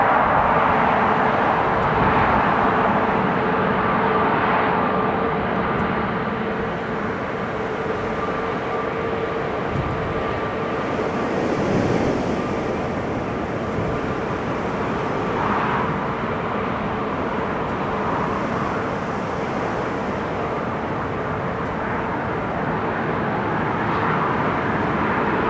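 An Italian Air Force C-27J turboprop lands at Newcastle International Airport, its engine drone a steady, fairly loud rumble sustained throughout with a constant tonal whine.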